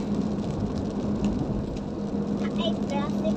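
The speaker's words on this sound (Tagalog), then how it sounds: "Pero umuulan na." Rain falls on the coastal road in Davao City, a steady hiss heard from inside a moving vehicle with a low engine hum beneath it and faint voices partway through.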